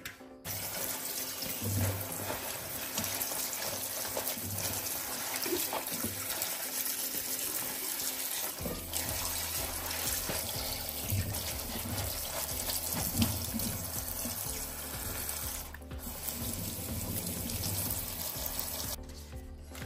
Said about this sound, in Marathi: तर आता हे स्वच्छ धुवून घ्यायच्यात